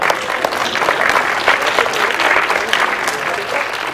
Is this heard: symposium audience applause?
yes